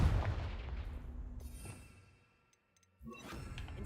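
A Confringo fire spell blast in Hogwarts Legacy, a loud booming explosion at the start that rumbles and fades into near silence, followed by a softer burst of magical crackle near the end.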